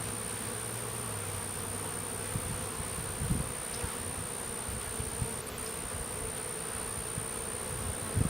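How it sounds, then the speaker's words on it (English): Honeybees buzzing inside the bottom box of a hive during a February brood and drone check, a dense, steady drone close by with faint knocks and movement. "See, there's a good number of bees in this box."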